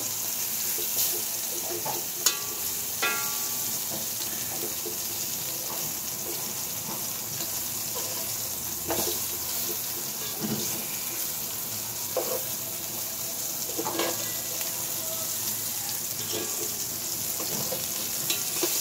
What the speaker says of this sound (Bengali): নেড়ে চেড়ে উল্টা না দিলে উঠে যাবে।